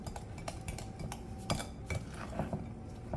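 A metal whisk clinks and scrapes briskly against a bowl while mixing spicy brownie batter, irregular close taps and swishes with no talking.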